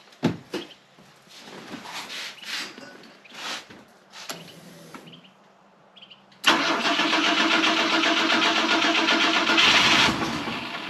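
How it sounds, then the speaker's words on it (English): A 50-year-old Volvo 164E that sat for 20 years, fitted with a new fuel pump, cranks and catches, then roars loudly and steadily at close range after several seconds of cranking and clatter. "So let's go ahead and try to start the old girl, see what happens."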